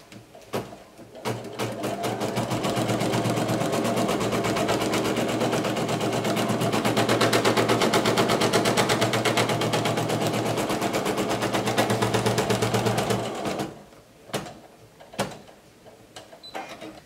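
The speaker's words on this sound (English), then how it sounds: "we are going to place the hoop on our machine and embroider the first step." Embroidery machine stitching, a loud rapid mechanical chatter that runs steadily for about twelve seconds before stopping, followed by a few scattered clicks and knocks.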